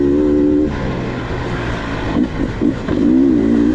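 2023 Beta 300RR Race Edition two-stroke dirt bike engine revving at low RPM on a trail ride, a loud, close, continuous buzzing drone that rises and falls with throttle.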